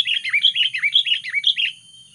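Sooty-headed bulbul (kutilang) calling up close in a rapid run of bright, warbling chirps for about two seconds, loud and alone with no talking.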